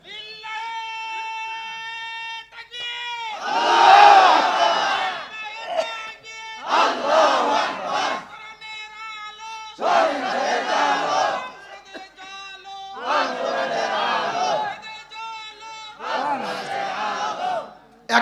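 A large crowd at a religious gathering chants slogans and takbir in call-and-response fashion, loud roaring bursts of massed voices alternating with a single leader's calls over a sustained tonal hum.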